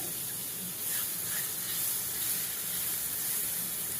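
Steady sizzling from a hot pan as grated coconut sautés, a continuous soft hiss with faint crackles, close by and moderately quiet.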